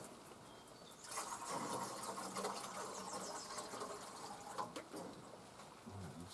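Water is poured into an animals' water container, a steady rushing splash that starts after a moment of quiet and runs on, fairly faint and close, with no talk.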